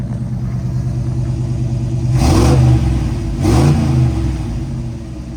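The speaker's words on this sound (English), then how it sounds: "Has a good healthy exhaust note." Chevy 350 small-block V8, a low-compression but healthy-running engine, idling with a steady low exhaust rumble, then blipped twice in quick succession, each rev rising sharply and falling back to idle.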